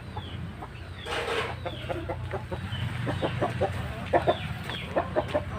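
Free-range hens and roosters cluck repeatedly in a farmyard, with sharp, close calls rising over a steady rustling background.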